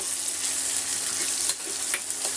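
Tomatoes frying in oil in a pan while making a spinach dal, a constant close hissing sizzle with faint crackles and stirring clicks, no talk.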